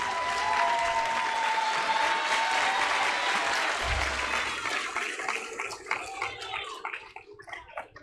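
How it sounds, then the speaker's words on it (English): Applause from a graduation ceremony audience: broad, sustained clapping from a large crowd that gradually thins and fades toward the end. "Clap for my little sister."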